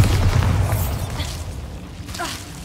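A Bombarda spell explosion in the Hogwarts Legacy video game: a deep booming blast that is already underway at the start and rumbles off into a fading tail, with faint softer crackles trailing behind.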